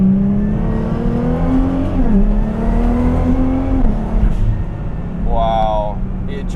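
A custom Nissan GT-R making about 540 wheel horsepower, revving hard with its wheels spinning on a cold day. The engine note rises and dips steadily and stays loud and close, with a brief chirp near the end.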